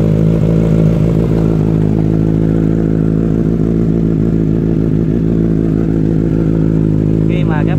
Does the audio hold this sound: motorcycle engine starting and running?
yes